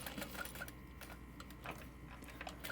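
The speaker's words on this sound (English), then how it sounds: "I am using a Juki 1181 industrial sewing machine" Juki 1181 industrial sewing machine with built-in walking foot top stitching a thick cork clutch wallet, giving a steady run of light mechanical ticks and clicks at moderate level, with no talk.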